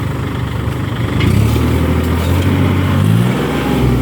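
A Kubota L40 tractor stuck in mud runs its engine steadily under strain while being pulled out, a loud low rumble with rising harmonic tones, alone without talk.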